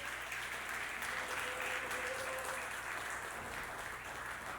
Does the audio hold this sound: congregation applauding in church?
yes